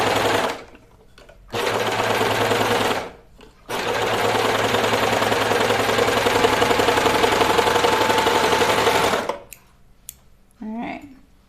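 A sewing machine stitches slowly through a thick sweater, with two long steady bursts of rapid mechanical whirring separated by short pauses, loud and close, with a brief gap and small clicks at the end.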